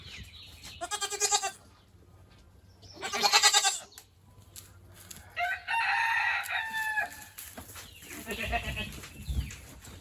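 On a farm, goats bleat in loud wavering calls while a rooster crows a long harmonic call between them, alternating bursts against quiet background with chickens clucking faintly.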